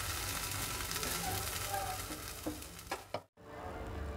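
Mint leaves frying in a pan give a continuous close sizzle with a few stirring clatters; the heat is switched off, leaving a short dead gap before the faint hiss resumes.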